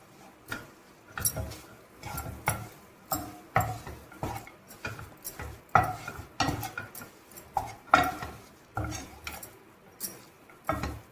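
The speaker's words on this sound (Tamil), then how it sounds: "ஸோ நல்லா மிக்ஸ் பண்ணி எடுத்துக்கோங்க" Rusk halwa with Horlicks being stirred in a pan over a low flame, heard as a near, regular series of spoon scrapes and knocks against the metal, several per few seconds.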